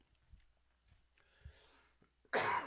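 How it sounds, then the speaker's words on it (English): A single sharp cough bursts out near the end after a few faint quieter sounds, close and brief. "Excuse me, I got a cough."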